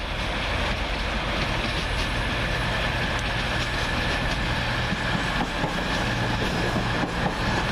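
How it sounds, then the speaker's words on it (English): A CrossCountry Voyager diesel passenger train running through Doncaster station on the far side, a loud steady rumble of engines and wheels with rhythmic rail clatter sustained throughout, no voices. "Over on the far side, the 1719 cross-country service to Newcastle."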